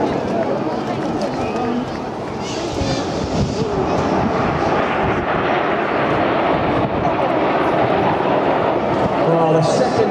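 Red Arrows display jets sweep past at the Clacton air show in Essex, a continuous loud roar of jet engines with wind buffeting the microphone, building slightly toward the end, while a commentator talks over it.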